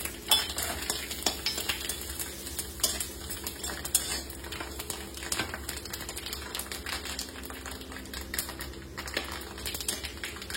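Dried red chillies crackle and sizzle in a hot pan, a dense, steady frying texture with frequent small pops and stirring scrapes throughout, fairly close and continuous with no talk.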